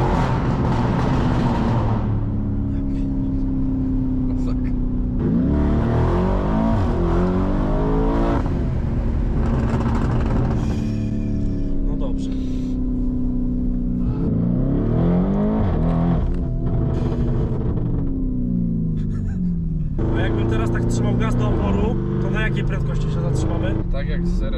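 A Keyvany-tuned Lamborghini Urus engine roars inside a tunnel, loud and close, with repeated revving climbs and gear shifts echoing off the walls.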